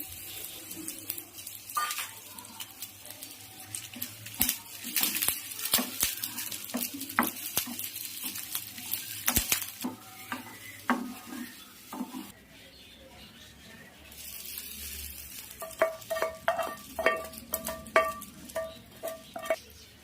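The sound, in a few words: tempering of mustard seeds, chana dal, dry chilli, curry leaves frying in oil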